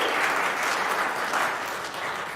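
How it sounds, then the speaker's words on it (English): A gathered audience claps together, a soft but continuous rush of many hands that stays level throughout and tapers only slightly at the close. "you all can clap for everything."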